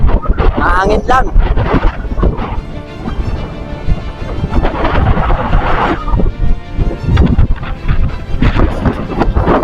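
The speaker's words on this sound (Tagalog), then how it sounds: "mahangin lang." Strong wind buffets the microphone on a mountainside near San Pablo, Laguna, in loud gusty roars, with someone talking throughout.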